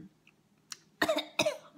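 A close, dry cough in two quick bursts, preceded by a small throat sound, in an otherwise quiet room.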